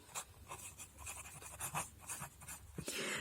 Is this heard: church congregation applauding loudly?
no